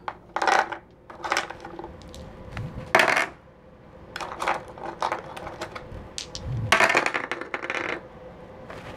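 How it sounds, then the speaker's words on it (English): Valentine's dice rolling and clattering on a surface in several separate bursts of rattling clicks, each lasting under a second, with quiet gaps between them. "Where's the sexy Valentine's dice?"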